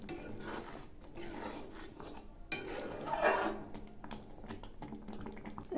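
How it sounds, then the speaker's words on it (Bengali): A spoon scrapes and clinks against a kadai while a simmering milk mixture is stirred, a steady run of close metallic scraping with a louder stroke partway through, no talk. "এগুলি আবার একটু নেড়ে দিচ্ছি।"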